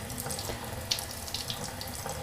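A tap runs steadily into a sink while something dirty is rinsed, close and continuous, with small splashes and clinks as the object moves under the stream, and no talk.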